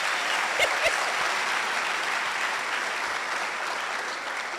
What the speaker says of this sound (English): Can we clap nicely?